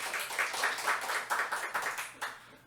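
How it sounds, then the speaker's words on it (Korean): A church congregation in California claps in a quick, rhythmic burst to thank the choir after Sunday worship; the clapping is moderately faint and steady, with no talking. "Let's applaud for our choir who devoted."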